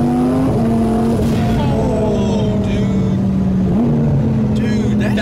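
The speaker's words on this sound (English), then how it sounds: "You wait for that boost to build up. You listen to beautiful turbos," A wrecked-and-rebuilt 2020 twin-turbo Audi R8 pulls hard under acceleration, its loud engine note holding steady with turbo whine and shifts, while people talk over it inside the car.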